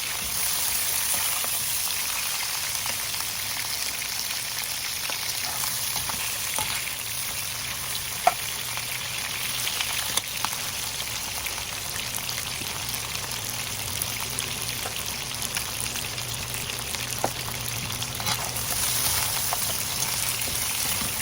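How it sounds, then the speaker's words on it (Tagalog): Steady, crackling sizzle of chicken frying in hot oil, with occasional sharper pops, continuous and close. "Dahil tumatalsik po, prito lang po natin siya ng saglit."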